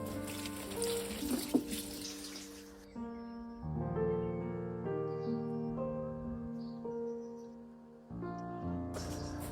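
Water pours and splashes over vegetables growing inside a plastic greenhouse, loudest at the start and again at the end, with steady tonal music filling the middle.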